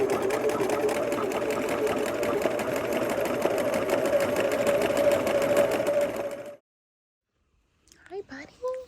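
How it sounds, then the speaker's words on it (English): A sewing machine fitted with an overcast foot runs steadily and loud for about six seconds, then stops abruptly; after a short silence a voice is heard speaking close by. "So I'm using my overcast foot, which just helps you sew along."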